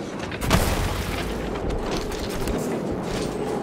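A creature blows up in the Prey video game, a sudden close boom followed by a rumbling, crackling tail that fades out over a few seconds.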